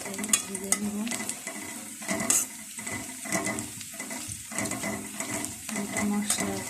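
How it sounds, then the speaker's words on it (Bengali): Bay leaf, cardamom, cinnamon and black cumin fry in hot oil with a soft, continuous sizzle, broken by a series of scraping stirs and light clinks of a utensil against the pot, with no voices. "তেজপাতা, 3টে এলাচ, দারচিনি, 3টা কালো জিরা, সাথে ভেজে নেব।"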